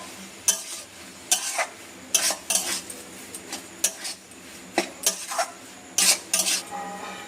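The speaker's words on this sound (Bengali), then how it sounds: "এবার ভালোভাবে একটু কষে নেবো মশলা এসব ডিমটা দিয়ে আলুটা দিয়ে" Egg and potato with spices are worked in a pan, with repeated sharp scraping and clinking strokes of a utensil against the metal in an irregular rhythm over a low background.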